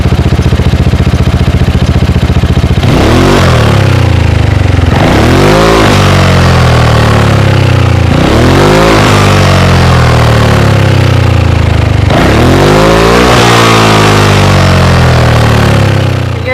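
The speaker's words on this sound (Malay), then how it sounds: "jom kita rem sikit motor ni" A Zontes 368G motorcycle engine with stock exhaust idles loudly, then revs sharply four times, each rev climbing and falling back to a rough idle, close up.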